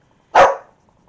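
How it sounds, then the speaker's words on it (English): A single sharp dog bark rings out close and loud, then stops abruptly, surrounded by near silence. "I'm so sorry about the dog"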